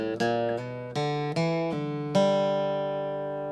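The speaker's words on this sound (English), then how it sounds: "Let me just slow that down for you a little bit." Played slowly on acoustic guitar, a bluegrass G run mixing back-and-forth picking with hammer-ons and a pull-off: about seven distinct, evenly spaced picked notes ring clearly up close, the final note left to sustain and fade.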